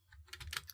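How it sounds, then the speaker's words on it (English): Quick burst of computer keyboard typing, a short run of light clicking keystrokes close by and alone, with no talk. "I'm typing on the wrong keyboard."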